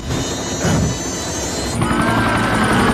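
Loud, roaring helicopter in an Indian action film scene as the craft lurches during a fight, with a dense continuous rotor and engine rumble plus crashing impact noise.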